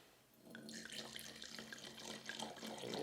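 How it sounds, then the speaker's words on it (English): Grenache wine is poured from a bottle into a glass, a close, bright trickling splash that builds and runs steadily for a few seconds. "Pour our Grenache"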